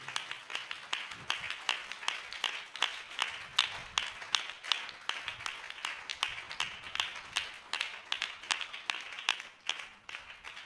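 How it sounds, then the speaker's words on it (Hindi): Loud, steady clapping from a church congregation welcoming believers at a worship gathering, a dense crowd of hands beating continuously with sharp, rapid claps and no talking. "हम जोरदार ताली से उनका स्वागत करें"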